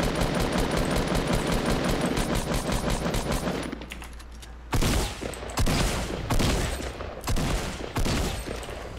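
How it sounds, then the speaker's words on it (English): Rapid automatic gunfire from an opposing team in the video game Fortnite: dense, continuous bursts fill the first few seconds, then several separated volleys crack out in quick succession, loud and close. "There's another team shooting from east."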